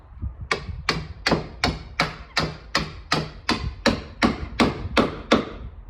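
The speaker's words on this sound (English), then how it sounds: "So you don't have to hit it too hard, just nice little taps." A hammer taps a car body patch panel in a steady series of about a dozen light, evenly spaced strikes, close and crisp with no talking.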